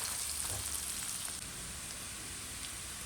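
Shallots, garlic and ginger in hot oil in a pan before ground green chili goes in, giving a steady, close, even sizzle throughout with no talking.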